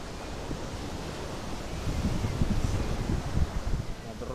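Sea waves rolling onto an Italian beach on a summer holiday, a steady wash of surf with wind buffeting the microphone, swelling louder in the second half, continuous and close.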